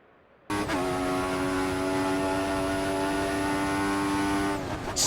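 Formula 1 car engine in F1 2014 at the Australia race, a sustained high-pitched whine that cuts in abruptly, holds steady and loud for several seconds, then fades at the end.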